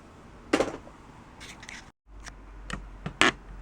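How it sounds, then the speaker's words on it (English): Tool snipping old window sash rope during a window weight repair, a few close crisp cuts and clicks spaced across a few seconds. "Here's a good tool, and just cut the rope."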